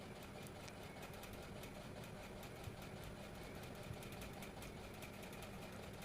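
A sewing machine stitches the neck of a dress with a steady, fast, even whirring rhythm, faint and continuous, with no talk over it.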